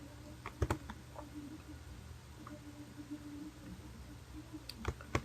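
A computer mouse clicks while a file is saved, giving sharp close clicks in small clusters near the start and end over a quiet room hum.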